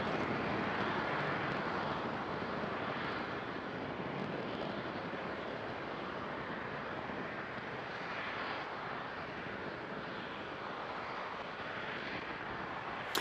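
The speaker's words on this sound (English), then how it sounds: "Vehicles pitching downrange as all 9 Merlin engines continue to perform well" Falcon 9 rocket climbing downrange with all nine Merlin engines firing, a dense, steady broadband roar that stays loud and unbroken throughout, with no voices over it.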